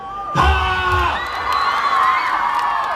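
A crowd at a live rock concert roars, shouting and cheering loudly together in a sustained wall of voices that swells suddenly and then holds, with high whoops rising above the mass.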